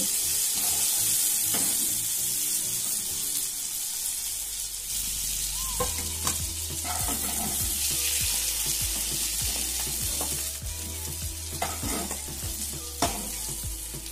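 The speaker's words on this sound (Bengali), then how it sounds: "চিংড়ি মাছ কিন্তু খুব বেশি ভাজার প্রয়োজন হয় না, এভাবে হালকা করে ভেজে নিতে হবে" Prawns fry lightly in oil with a loud, continuous sizzle. Near the midpoint a run of low, regular knocks and scrapes begins, as pieces are moved and lifted from the pan.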